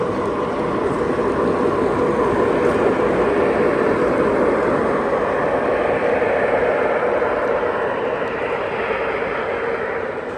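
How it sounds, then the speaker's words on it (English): Model railroad Bessemer train running on a layout at a museum show, a steady broadband rumble and whir that holds at the same level throughout with no distinct events. "We also have a Bessemer train coming through as well."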